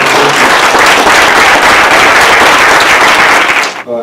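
Loud, dense round of audience applause at a county and city public meeting on a homelessness agreement in Salinas, California, filling the room for about four seconds before cutting off abruptly.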